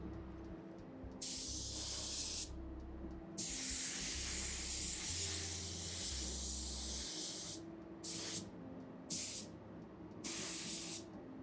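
A spray gun sprays sealer onto a car body panel in several long bursts of steady hiss with short pauses between them. Each burst starts and stops abruptly, ending in a run of brief shots close by, over a low background hum.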